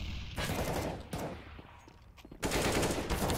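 Bursts of rapid gunfire in a Counter-Strike match on the Mirage map, loud and close, with several sharp volleys separated by brief quieter gaps and no speech.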